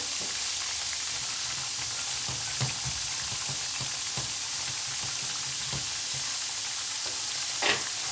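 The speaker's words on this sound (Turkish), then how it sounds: "Bu aşamada kıymalarla birlikte kavrulması için biberlerimi de ekliyorum." Minced meat and peppers fry in a pan with garlic, giving a steady, close sizzle that holds throughout, with faint stirring clicks and scrapes here and there, and no talking.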